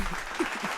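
A short burst of applause, a crowd clapping briefly as a sound effect, dense and moderately loud for under a second.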